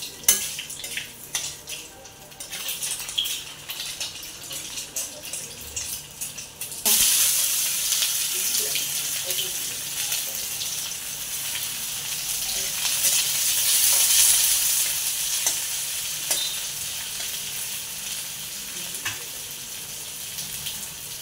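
Torn bay leaves sizzle in hot mustard oil in a home kitchen. After a few seconds of quiet clinks, a steady, close frying hiss starts and holds, swelling slightly toward the middle.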